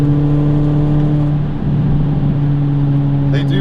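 A Mini Cooper S R53 drives along with a steady engine drone and whine, dipping briefly as a gear change goes through before pulling on again, close and fairly loud.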